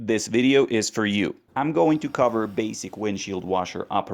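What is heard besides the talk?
No distinct noise like a dog, phone or traffic.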